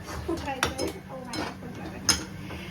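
Besan masala paste being stirred in a pan, a spoon scraping and knocking against the metal in uneven strokes, with a sharper clink near the end, close and moderately loud.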